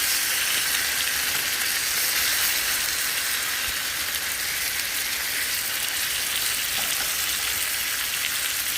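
A salmon steak fries in butter in a pan, giving a steady, loud, even sizzle that holds unbroken from start to finish with no one talking.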